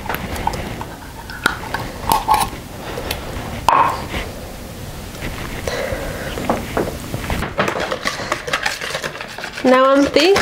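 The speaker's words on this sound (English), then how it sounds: "Let me see what else I can get from the bottom of this can" Utensil scraping chipotle sauce from the bottom of a can, with repeated metallic scrapes and clinks in irregular bursts, close and fairly loud.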